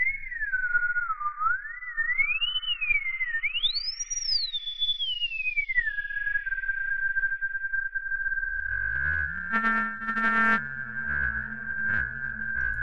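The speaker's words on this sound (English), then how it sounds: "now you play the whistle just with the oscillator frequency here." A synthesized whistle from a ring-modulated oscillator in Bitwig glides up and down in pitch like a melodic whistle, then settles into a steady tone that turns buzzy and harmonically rich in the last seconds, quiet and alone.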